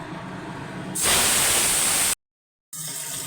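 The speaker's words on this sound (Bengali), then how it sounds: "তেল গরম হয়ে গেছে, মাছ ছেড়ে দেবো।" Whole sarputi fish dropped into hot oil in a kadai, setting off a sudden loud burst of hissing sizzle that holds steady, cuts out briefly, then returns as a quieter steady fry.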